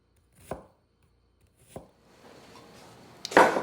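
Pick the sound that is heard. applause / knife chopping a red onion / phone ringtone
knife chopping a red onion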